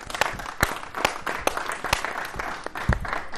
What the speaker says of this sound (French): on a applaudi comme dans une salle de classe